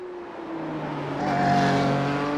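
A Porsche 911 Cup car on the Zandvoort circuit in a sim racing game, its engine rising in pitch as it accelerates, steady and close with a slight swell in volume toward the end.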